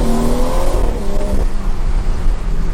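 The engine of a tuned BMW 340i revs with a low, rumbling exhaust and uneven burbling pops, a close, continuous growl rising and falling over a few seconds.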